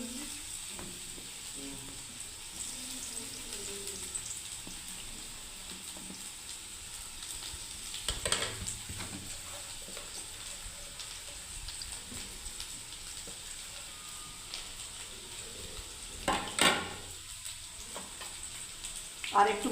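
A second batch of onions deep-frying in oil for crispy korla crackles and sizzles steadily at moderate volume, with a few sharper bursts and stirring scrapes along the way.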